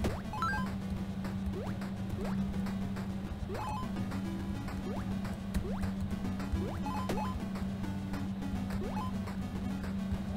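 Water drips steadily in a game setting, repeated rising plinks falling every second or so over a constant low hum, fairly faint and with no voices.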